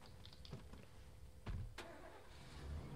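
A pick-up truck engine in the State of Decay video game starts and turns over in a few short bursts, then settles into a low idle, fairly quiet and close.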